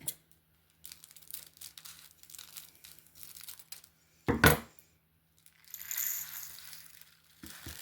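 Crinkling plastic sachets are handled in short bursts, followed by a sharp crunchy rustle as scissors cut through, and more soft wrapper crackling afterward.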